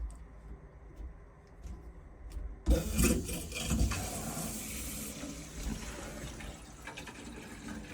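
Water rushes into a home heating system as it is filled after pump valves are opened, starting with a few faint clicks and then surging into a steady, close hiss and gurgle that continues throughout.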